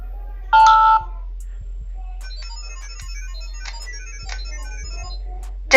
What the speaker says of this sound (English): Then you hear a beep.